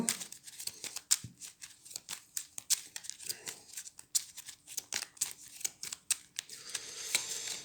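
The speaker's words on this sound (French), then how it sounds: "il faut que je remélange ma défausse de Genestealer" Genestealer cards from the Space Hulk Death Angel discard pile are shuffled by hand up close, giving a steady run of crisp riffling flicks and snaps over several seconds.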